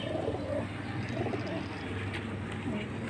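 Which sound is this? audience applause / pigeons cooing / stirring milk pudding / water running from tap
pigeons cooing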